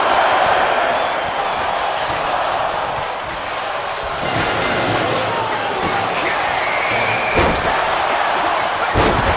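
A steel cage door slams shut in a WWE 2K25 WarGames match, sharp metallic bangs over a loud, constant arena crowd roar.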